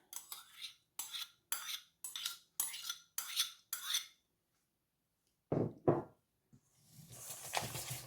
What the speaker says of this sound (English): Give it a good mix, incorporate it.